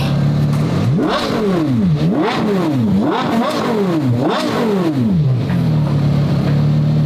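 A Porsche Carrera GT's V10 engine revs loudly and close, rising and falling in about five sharp throttle sweeps before settling back to a steady idle, with no talking.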